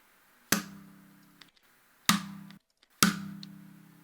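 Three separate snare drum hits, each a sharp crack with a ringing, slowly fading tail, spaced roughly a second and a half apart with silence between.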